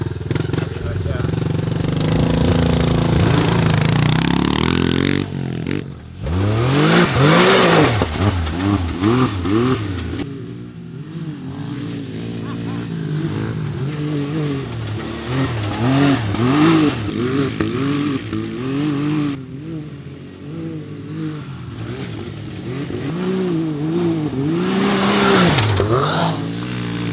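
Pit bike and side-by-side engines race together on flat ground, loud revving and rising, falling whines that overlap and shift pitch continuously, close up, with voices shouting over the motors.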